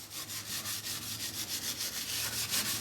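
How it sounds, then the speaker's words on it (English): Wire brush scrubs oil-soaked, greasy brake parts during a wheel bearing and brake repair, giving quick, rhythmic scratchy strokes in steady succession, close and moderately loud, with no talk. "We're scrubbing down now this wire brush."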